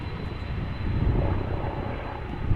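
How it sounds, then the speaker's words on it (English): A trauma helicopter near Amsterdam Schiphol Airport approaches, its low, rumbling drone swelling as it draws nearer, with a deep engine roar and rushing wind noise. No one speaks. "Helicopter coming this way."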